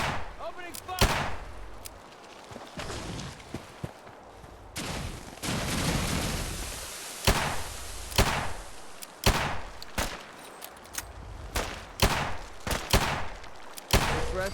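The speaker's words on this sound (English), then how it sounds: "Opening fire!" Combat gunfire in Fallout 4, with repeated loud cracking shots spaced a second or so apart over rumbling blasts and a sustained roar in the middle, close and forceful throughout.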